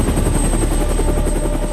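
A helicopter flies close by, its rotor beating in a steady, loud thrum over continuous engine whine, with no talk.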